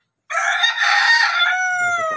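A farm rooster crows once, loud and close, a long strained call after a moment of silence, with a few soft clucks at the end.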